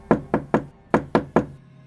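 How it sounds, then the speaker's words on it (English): Knocking on a wooden door, six firm raps in two quick groups of three with a short pause between, close and clear. "The wolf ran straight to the grandmother's house and knocked at the door."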